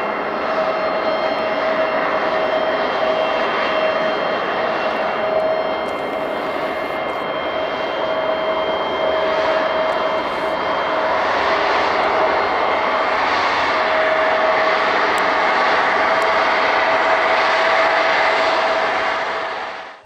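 Steady, loud drone of the engines on an American ERJ145 regional jet, continuous and close throughout with a faint whine riding on top and no talk.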